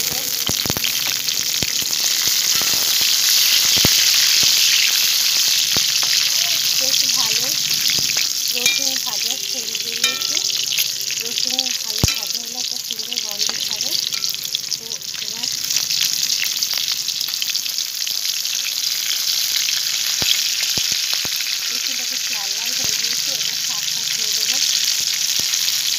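Green chili sizzles and crackles in hot oil in a pan while cooking kochu shak (taro leaves), a steady loud hiss with occasional stirring scrapes and pops.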